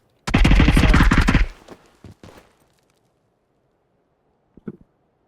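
A rapid burst of loud automatic gunfire in the video game PUBG rattles out for about a second, then a few scattered shots and faint later pops.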